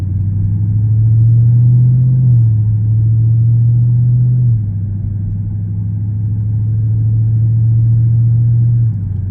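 A Dodge Charger Scat Pack V8 drones steadily while driving, a loud, close, low rumble that steps down in pitch partway through and holds a smooth cruising tone.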